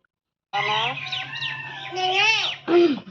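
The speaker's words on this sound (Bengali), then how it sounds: "ওর মোবাইলে যে কার্টুন চলছে কিভাবে পাখিটা কান্নার আওয়াজ দিচ্ছে শোনো" Cartoon bird crying sounds play from a mobile phone speaker, a string of warbling, squawking wails and a sharp shriek near the end, loud and close with no talk over them.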